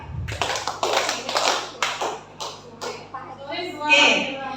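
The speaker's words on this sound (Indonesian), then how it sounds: "jika saya ucapkan siang, berarti tepuk tangannya 3 kali" A group of people clapping hands in unison in short bursts, several sets of crisp claps ringing out, with voices talking near the end.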